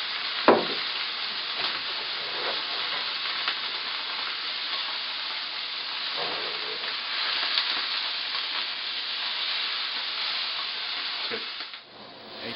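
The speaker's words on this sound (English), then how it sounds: "So get the meat in there and get it sizzling." Beef cross rib sears in very hot grapeseed oil in a pan, giving a steady loud sizzle and hiss throughout with a few brief pops and stirring clicks.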